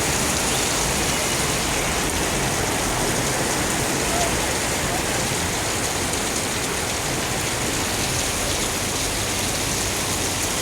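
Heavy rain pours onto the streets of Alexandria, a dense, even hiss of drops on pavement that fills the whole stretch without a break.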